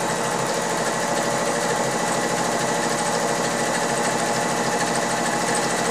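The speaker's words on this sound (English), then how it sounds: "Let's just do quickly one of the decorative stitches, which is, let's go for I, which is a scalloped edge" A sewing machine runs steadily at speed, stitching a decorative scalloped edge stitch with a continuous, even mechanical whir and rapid needle clatter, close and loud throughout with no pauses.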